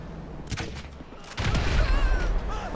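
A game explosion in GTA V, a sharp blast followed by a louder, sustained roaring burst that rumbles and crackles for over a second, with a few smaller pops before it.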